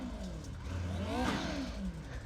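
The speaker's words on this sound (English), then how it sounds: "I'm gonna blow my engine out." A racing truck engine in a racing video game revs hard, its pitch sweeping up to a strained peak and then falling back, loud and close with a steady mechanical drone beneath.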